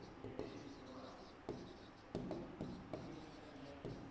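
A pen writing on paper while a class 10 maths exercise is worked through, giving soft close scratching strokes broken by short regular pauses, faint and quiet, with a voice speaking softly.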